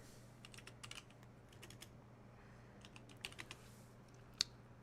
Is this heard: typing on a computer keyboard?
yes